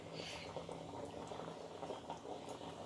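Fish curry simmers in water in a pot, giving a steady, soft bubbling and gurgling that runs without a break at low level, with faint background noise and what may be muffled voices.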